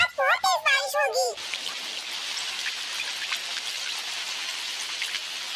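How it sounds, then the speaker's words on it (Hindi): Heavy rain pours steadily in a Doraemon cartoon, a dense, even hiss that runs continuously after a brief burst of a voice at the start. "आज बहुत तेज बारिश होगी"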